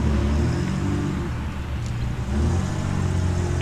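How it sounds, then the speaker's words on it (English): Several Triumph car engines idle and rumble nearby at low speed while pulling into a motor racing museum during a convoy event, a steady mechanical drone with occasional slight revving. "Here the cars are pulling into the Motor Racing Museum"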